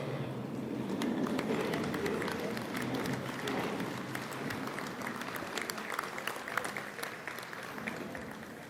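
An audience at a National Softball Hall of Fame induction ceremony applauds in a large hall, a steady dense wash of clapping from many hands that holds for several seconds with faint crowd noise underneath.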